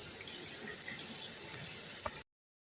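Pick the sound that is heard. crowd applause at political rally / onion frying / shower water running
shower water running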